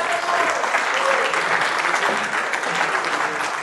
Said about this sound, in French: Je pense qu'on peut les applaudir à la gloire de Dieu.